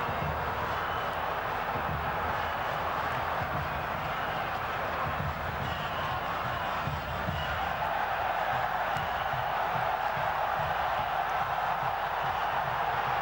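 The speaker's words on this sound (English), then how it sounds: "Crowd are furious" An angry football stadium crowd at an AFCON 2022 match between Cameroon and Burkina Faso, a steady, distant roar of thousands of voices that never lets up, with faint commentary beneath.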